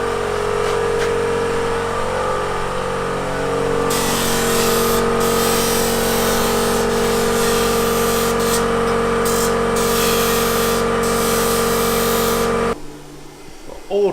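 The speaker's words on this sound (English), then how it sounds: "All 20 minutes of my grinding" Steady, loud power-tool grinding on the edges of a metal bracket in a garage, a continuous high whine with brief dips that stops abruptly near the end.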